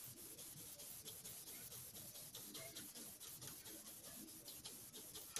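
Someone rubs out writing with quick back-and-forth rubbing strokes, faint but close, in a steady rhythmic scrubbing with no talk.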